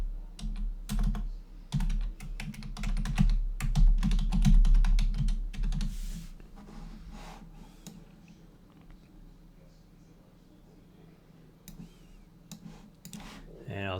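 Computer keyboard keys clatter in quick uneven bursts of typing, fairly close, then thin out to a few isolated taps over quiet room noise.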